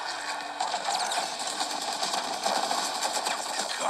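Engine ignition in the video game Gears 5, a steady dense mechanical whir with a fast rattling pulse that holds at an even, fairly loud level throughout, with no voices over it.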